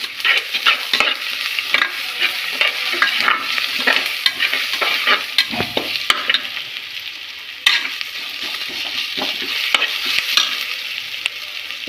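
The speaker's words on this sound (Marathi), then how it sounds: "आता आपण अद्रक लसणाची पेस्ट टाकूया आणि थोडी 2 मिनटं शिजवून घेऊ आपण ते।" Ginger garlic paste fries for veg biryani with a loud, continuous close sizzle, punctuated by frequent scraping and clinking of a spoon stirring against the pan, without any speech.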